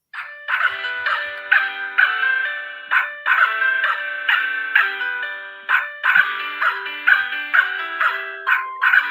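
Musical greeting card with a puppy design playing a tinny electronic dog-barking tune, bright repeated yaps in a steady rhythmic loop, fairly close and alone.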